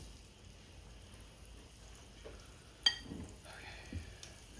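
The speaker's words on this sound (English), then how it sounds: "So I want to use this pan to crisp up my tacos." Beef tacos crisp in hot oil in a pan, making a quiet, steady sizzle with one sharp clack and a few light scraping sounds from the pan.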